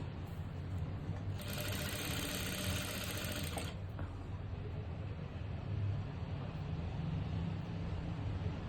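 A sewing machine runs a rough stitch on a churidar top, a fast steady whirring burst of about two seconds, quiet and alone, then stops.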